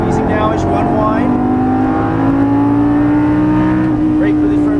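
Lamborghini Gallardo Superleggera LP570-4 engine pulling on a track under light throttle, a loud steady rising engine note, with an instructor talking over it.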